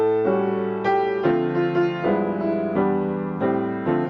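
Jazz piano plays the opening of a song, a series of rich, sustained chords changing every half second or so in a slow, legato phrase, up close with no talk.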